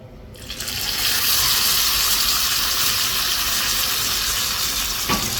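Hot tempering of mustard seeds, curry leaves and dried red chilies hits chicken stew with a sudden loud, hissing sizzle that swells fast and holds strong and steady, with a faint clink near the end.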